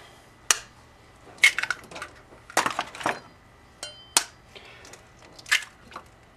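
A dozen eggs are whacked and cracked open one after another, giving sharp, isolated shell cracks spaced by short silences, close and fairly loud.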